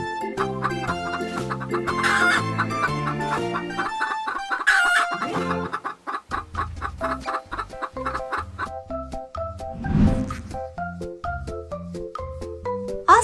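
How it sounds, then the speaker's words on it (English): Polish chicken clucking and crowing, rooster-like calls standing out clearly over steady background music. "Polish Chicken."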